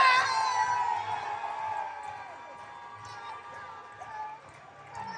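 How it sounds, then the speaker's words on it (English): Wrestling crowd at a Nashville lucha-style show cheers and whoops in a loud ovation that fades gradually, with scattered shouts and a renewed swell near the end. "Listen to this ovation."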